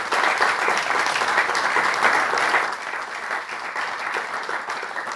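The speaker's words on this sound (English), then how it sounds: "So a round of applause." A meeting audience at a business improvement district AGM applauds in sustained, dense clapping that holds steady, then eases slightly toward the end.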